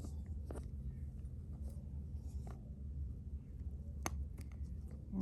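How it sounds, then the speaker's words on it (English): Small eyebrow scissors cut yarn at the bound ends of an i-cord, giving a few faint, sharp snips spaced apart over a low background hum. "I'm using eyebrow scissors"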